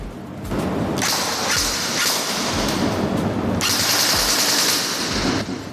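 An Arcturus PP19-01 Vityaz AEG airsoft rifle fires long, rapid full-auto bursts, a loud, close mechanical chatter with a brief pause between two strings of shots.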